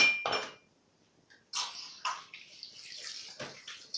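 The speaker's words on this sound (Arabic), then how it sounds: "المواعين الوسخه اهي، هنمسكهم ونغسلهم" Water splashes and runs in bursts as dishes are scrubbed and rinsed, with soft clinks of pots and utensils between brief pauses.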